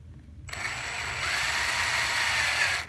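A small drill bores into the die-cast metal post of a Hot Wheels toy car, starting abruptly and holding a steady high whine with gritty grinding, close and loud with no talk.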